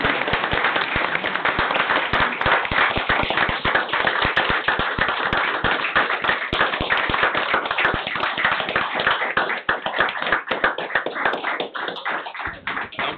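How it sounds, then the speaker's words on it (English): An audience at a county board of commissioners meeting breaks into sustained applause, dense overlapping hand claps that hold steady for several seconds and gradually thin out toward the end. "Let's give a round of applause for Dr."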